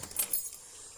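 A bunch of keys jangles briefly and close by, a quick metallic rattle lasting under a second.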